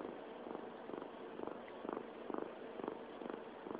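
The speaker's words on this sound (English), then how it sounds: "I hear you purring." Tippy the cat purrs close and soft, a steady rhythmic rumble pulsing about twice a second with each breath in and out, alone and quiet.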